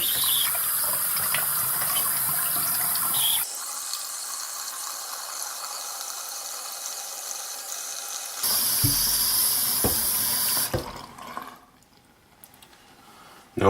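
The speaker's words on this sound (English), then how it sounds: "let's do a drain test up here with the faucet running" A bathroom sink faucet runs water into a freshly unclogged drain, a steady hissing rush that stops abruptly, starts again, then cuts off and leaves near silence with faint drips.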